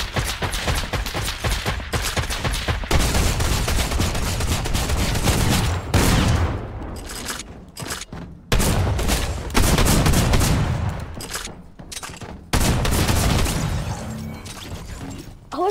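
Drum gun fire in a video game comes in repeated rapid bursts of loud, dense automatic shots, broken by brief pauses between volleys.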